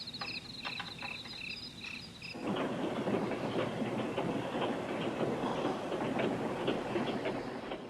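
A train rolls along with steady rumbling and rhythmic clatter, heard from within a film scene, with insect-like chirping at the start before the louder running noise takes over.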